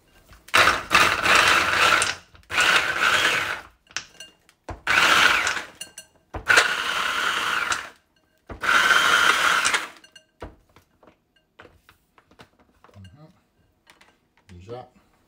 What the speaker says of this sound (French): On va déjà moudre tout ça.